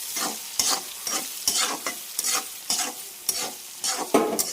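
Sliced onions for chicken biryani fry in hot oil until brown, a steady, close sizzle broken by repeated rhythmic scrapes and stirs of a spoon against the pan.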